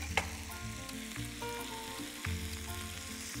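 Onions, carrots and fennel trimmings sizzle in a pan for fennel osso bucco, a soft, steady frying crackle with occasional stirring knocks, heard close and unaccompanied by speech.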